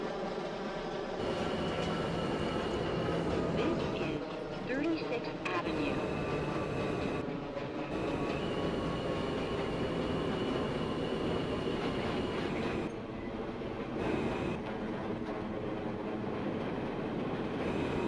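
A Manhattan-bound N subway train in the OpenBVE simulator rumbles steadily along the line in Queens with wheel and motor noise, while automated station announcements play over it.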